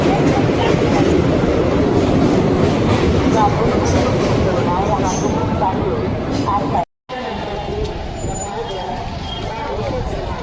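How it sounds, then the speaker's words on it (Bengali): A train crossing a bridge overhead rumbles and clatters loudly nearby, its noise continuous under people talking in a large crowd at the Maha Kumbh, easing slightly after a brief gap. "ব্রিজের উপর দিয়ে ট্রেন যাচ্ছে"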